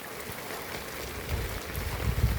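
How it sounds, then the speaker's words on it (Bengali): Heavy early-morning monsoon downpour on an empty street makes a dense, even hiss of rain. It swells slightly louder toward the end, with a low rumble beneath. "মুসলধারে বৃষ্টি হচ্ছে"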